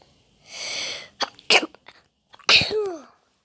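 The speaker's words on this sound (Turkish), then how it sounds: "Ay hapşırdım." A single sneeze bursts out after a sharp breath in, followed by a few small breathy sounds and a second loud sneezy exhale, close and alone.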